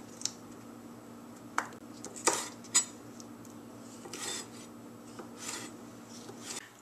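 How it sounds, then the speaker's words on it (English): A knife slices scallions on the diagonal against a cutting board, giving a handful of sparse, crisp taps and soft scraping strokes over a quiet kitchen hum. "Time to move on to the scallions. This is really simple, and it's just a slice on the diagonal called a bias."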